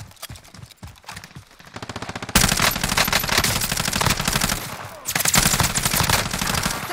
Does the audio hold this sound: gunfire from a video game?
yes